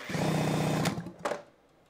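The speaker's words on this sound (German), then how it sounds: "Ich habe jetzt hier nochmal eine Bohrmaschine dran." An electric drill whirs steadily as it spins a Simson SR50 engine, then cuts off abruptly before a brief second burst and a fade to quiet.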